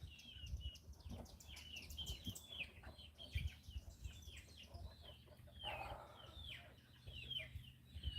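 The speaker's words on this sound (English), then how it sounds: "Where are you, little chickens?" Chickens clucking on a farm: a steady, fairly close stream of repeated clucks and short chirpy calls running through the whole stretch, with no talking over them.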